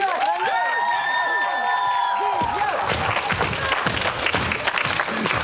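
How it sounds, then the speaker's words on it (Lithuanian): Studio audience applause swells into steady dense clapping with some cheering from the second half on, while earlier a rising and falling whistle-like melodic tone plays over the crowd noise. "palydėkime juos plojimais"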